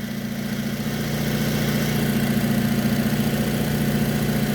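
A 2010 Chevrolet Aveo engine idles warm and steady, a close, even low rumble with a constant hum and no talk over it.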